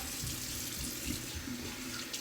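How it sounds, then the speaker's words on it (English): Cold water runs from a tap for a rinse, a steady splashing gush into a sink that is moderately loud and continuous, with no voices over it. "So do another cold water rinse."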